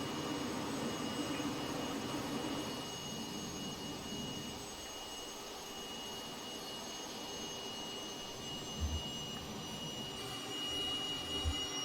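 A steady jet engine whine with high tonal hums from a Cessna T-37 Tweet in Microsoft Flight Simulator 2020 runs throughout, with a couple of brief low thumps near the end.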